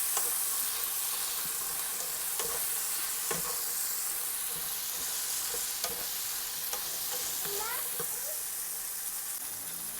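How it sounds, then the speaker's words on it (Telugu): Green eggplant pieces are stirred through a sizzling tempering in a pan, with a steady hiss of frying and repeated scraping clinks of the spoon, close and continuous. "ఇప్పుడు ఒకసారి మొత్తం కలిపేసుకుందాం వంకాయ ముక్కలు తాలింపులో."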